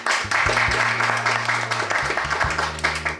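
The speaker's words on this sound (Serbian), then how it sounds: "Molim vas veliki aplauz" A television show audience bursts into loud, sustained applause as a band is introduced, dense clapping over a steady low musical drone.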